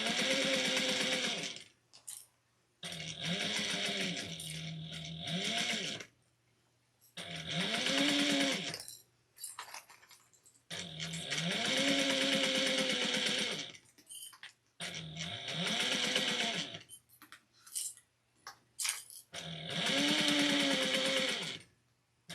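Sewing machine stitching a curved seam in six separate bursts of fast, even whirring, each lasting a couple of seconds and stopping briefly between, close and clear with no talk.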